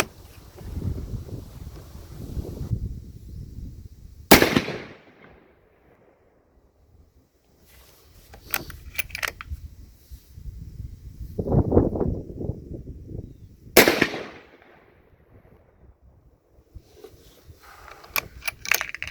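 6.5 Creedmoor handloads fired from a Mossberg Patriot Predator rifle: two sharp, loud cracks about ten seconds apart, with wind buffeting and handling rustle in between.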